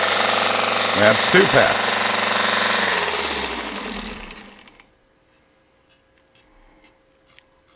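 A Temu mini belt sander sharpening a knife gives a loud, steady high-pitched grinding whine with two brief scraping passes of the blade across the belt. The motor then spins down and falls silent, and someone speaks briefly over the sound.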